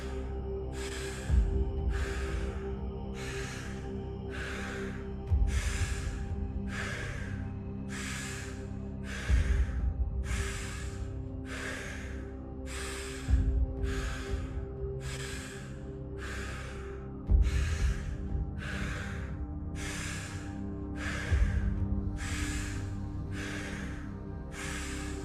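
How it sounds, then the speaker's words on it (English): Strong rhythmic breathing during a cosmic tree breathwork exercise, with forceful breaths repeating at a steady fast pace for the whole stretch and periodic louder accents, close and alone with no talk. "This process will only be effective if you keep the breathing strong"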